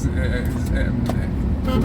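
Chaotic street traffic in Noida, India, with a steady rumble of engines and repeated short car horn toots sounding nearby throughout.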